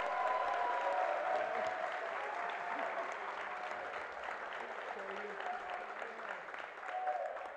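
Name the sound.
audience applause for an athlete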